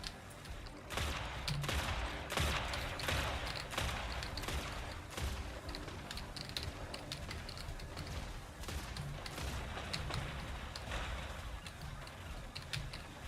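Pulse cannon weapons fire in the Mech Arena mech combat game, a dense, continuous rattle of rapid shots and mechanical clatter running steadily throughout at moderate level.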